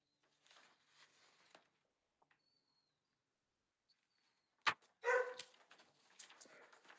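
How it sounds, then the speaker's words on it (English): A dog barks in a quiet indoor setting: a few faint sounds early, then one sharp loud bark followed by a burst of closer barking and scuffling that trails off, with no talking. "Meows and barks, meows and barks."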